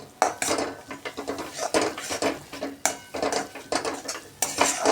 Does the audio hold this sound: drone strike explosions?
no